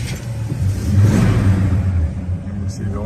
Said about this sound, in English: So we're going to start up our 70 El Camino here for you.